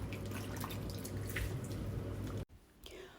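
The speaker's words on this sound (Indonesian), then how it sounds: "Buang dulu air garamnya, tiriskan, baru kita cuci kawan-kawan." Salt water is poured off soaked radish, giving a close, steady trickle and splash of draining liquid that stops abruptly, followed by a quieter moment.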